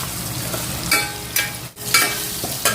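Curry leaves frying in hot oil for a gongura stew, a crackling sizzle broken by several sharp scraping stir strokes and one brief dip to near silence, close and fairly loud, no speech.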